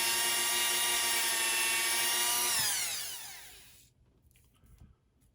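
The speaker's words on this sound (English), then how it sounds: "Just gonna go right with the Dremel." A Dremel rotary tool whines steadily at high speed while trimming a joint, then its pitch falls as it spins down and goes quiet, leaving faint handling noise; close, with no speech.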